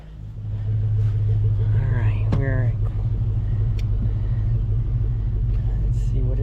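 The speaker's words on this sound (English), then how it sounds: "Let's crank up the car." A Chevrolet Tahoe's engine cranks and settles into a steady low idling rumble that continues throughout, while someone speaks briefly over it near the start.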